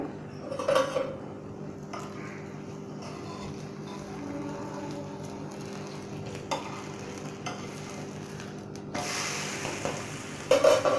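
Potato and wheat-flour pancake cooking in oil in a pan, a low steady sizzle with scattered scraping and clinks of a spatula on the pan, and a louder burst of clatter near the end.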